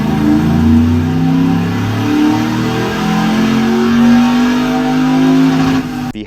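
A mildly built 5.7-litre aluminum-block LS1 V8 in a 1986 Toyota pickup revs loud and close, its pitch climbing and falling in long sweeps before cutting off at the end.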